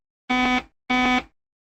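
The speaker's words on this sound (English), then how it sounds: "an alarm will sound when there's an incoming call for your vessel" Incoming call alarm from a VHF DSC marine radio on channel 70, two identical loud electronic beeps of about a third of a second each, separated by a short gap.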